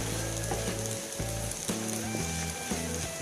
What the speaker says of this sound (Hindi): इसको ना ऐसे हल्का फ्राई करते जाएंगे।